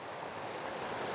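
Water gushes steadily through a stream beside a small side pool, a continuous broadband rushing wash with no breaks, fairly soft and alone with no voices.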